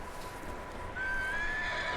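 Horse neighing in the video game Red Dead Redemption 2, a fairly loud whinny that rises in pitch and sits over steady background game ambience, with no talk.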